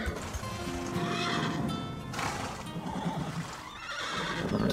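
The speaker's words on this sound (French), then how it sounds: "Après tout, vous n'êtes que des chevaux." Horses in an animated ranch show neigh and whinny loudly with repeated drawn-out calls, mixed with clip-clopping hooves nearby.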